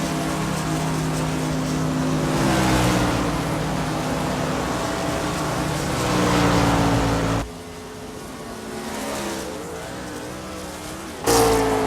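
Race cars in a CMC Sportsman Series event at Chicago drone past on track with steady, loud engine tones that rise and fall in pitch. The sound drops sharply, then a sudden burst of revving returns at the end.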